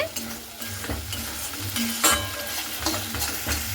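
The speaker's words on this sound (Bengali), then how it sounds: "এইভাবে টক দইটা দিয়ে খুব সুন্দর করে আবারও আমি নাড়াচাড়া করে নিচ্ছি।" Sour yogurt stirred into a frying spice mix in a pan, giving a close, continuous sizzle with repeated scraping stirs and the odd utensil clink.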